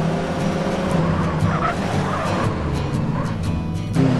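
Tires skid and squeal on a car in GTA San Andreas, a steady engine roar with sliding tire noise running continuously and loudly throughout, with no speech over it.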